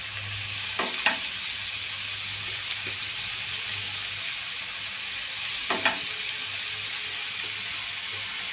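Chopped fenugreek leaves with softened tomato stir-fry in a pan, a steady hissing sizzle with a few distinct stirring knocks near the start and again midway, close and even in level.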